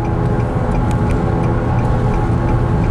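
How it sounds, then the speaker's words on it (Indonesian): A Nissan Grand Livina 1800 cc being driven at speed on the road produces a steady, rough, continuous droning hum from a worn wheel bearing, blended with road and engine noise inside the cabin. "ini ada bunyi nguong-nguong-nguong dari bearing roda"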